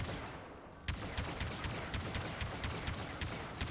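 Rapid blaster fire from a Star Wars Battlefront II campaign battle, a dense run of sharp repeated shots crackling steadily over a loud, busy combat background with no talking.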